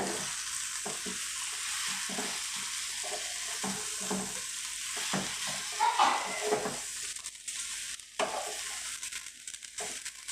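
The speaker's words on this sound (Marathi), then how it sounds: "हलवून घ्यायचं." A spoon stirs bread patty filling in a pan, giving intermittent scraping strokes over a soft hiss of cooking, with a faint clink partway through; no voices.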